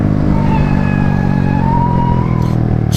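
A Honda Grom mini motorcycle at speed, its tires giving a loud, steady roar with a thin whining tone riding over the continuous rumble of the road and engine.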